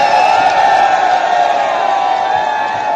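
Large crowd at a farmers' panchayat rally in Shamli: a loud, dense, steady roar of many voices with cheering mixed in, lasting the whole short stretch.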